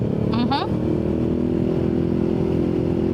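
Motorcycles climb a busy uphill mountain road toward Marilaque, their engines a loud, steady drone close by, with a brief chirping sound over the engines near the start.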